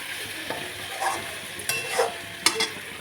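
A spoon stirs vegetable curry in a pan with a little raw mustard oil, steady soft sizzle punctuated by several scraping stirs, close and alone.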